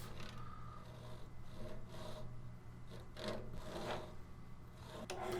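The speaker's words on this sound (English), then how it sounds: "then we'll go in with the flush cut saw and cut the rest of that" Flush cut saw cutting off an epoxy piece, a faint rhythmic rasp of back-and-forth strokes, close up over a low steady workshop hum.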